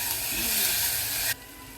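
Green chilli paste sizzles loudly in a hot pan while cooking moong khichdi, a steady close frying hiss that cuts off abruptly into a quieter simmer.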